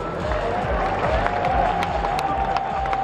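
Stadium crowd at a baseball game at the Taipei Dome applauds a player with a steady, dense wash of clapping and cheering, while a loud announcer's voice carries over it on the public address.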